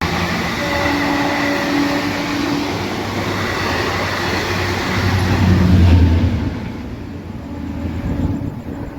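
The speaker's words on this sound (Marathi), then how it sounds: "आता आपली गाडी नांदेड पुणे एक्सप्रेस पुढील प्रवासासाठी रवाना झाली आहे" The Nanded–Hadapsar Express, train 17630, rumbles along the rails in a steady onboard roar with rhythmic low clatter that swells midway, then eases, no voices heard.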